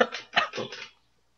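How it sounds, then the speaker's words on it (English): A short burst of three or four quick, raspy coughs, close and fairly loud, then silence. "I'm coughing."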